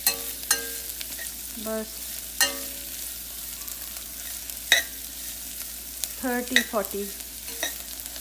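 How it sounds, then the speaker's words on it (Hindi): Sprouted fenugreek seeds and rice being stir-fried in a pan: scattered spoon scrapes and clinks against the pan over a soft sizzle, with a brief spoken phrase. "अब इसको स्टर कीजिए, थोड़ा सा फ्राई कीजिए"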